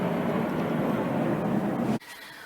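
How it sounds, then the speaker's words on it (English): Planes fly low overhead in V formation for VE Day, making a loud, steady broadband roar that cuts off abruptly near the end. "that was the planes going over in a V formation for VE Day"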